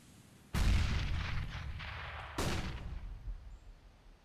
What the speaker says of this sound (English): Smoke. Grenade out.